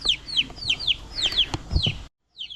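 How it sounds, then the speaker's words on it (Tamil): Kadaknath rooster x Brahma hen crossbreed chicks cheep for their mother hen in rapid, repeated high-pitched peeps, a steady chorus close by with soft clucking and rustling underneath, ending in a brief pause. "இது தாய்க்கோழி தேடி கத்திக்கிட்டு"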